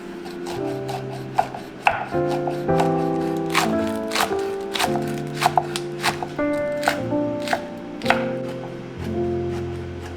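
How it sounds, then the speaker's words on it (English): Bell peppers diced into large cubes on a cutting board, a close series of knife chops with rhythmic thuds and clicks, some pauses between runs of cuts, no talk. "These will be chopped into sizable cubes"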